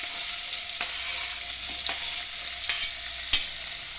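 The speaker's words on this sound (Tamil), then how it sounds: "இந்த பன்னீரை வந்து போட்டு லைட்டாக ஃப்ரை பண்ணிக்கணும்" Quiet, steady frying sizzle of paneer in a pan with a little sunflower oil, with occasional soft scrapes and clicks of stirring; no voices.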